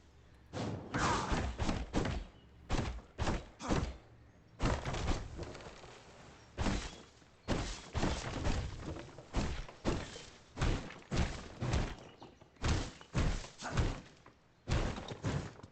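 Iron axes chopping down trees in V Rising land as a rapid series of loud, heavy thunks, grouped in quick bursts with brief pauses, close and without talk.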